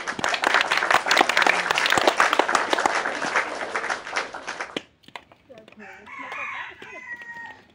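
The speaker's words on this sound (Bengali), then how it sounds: "প্রতিযোগীদের উৎসাহ দেওয়ার জন্য একটা করতালি করতালি" Spectators at a ball-throwing challenge game clap to encourage the competitors, a few seconds of loud mixed applause that cuts off abruptly, followed by a quieter stretch with a rooster crowing.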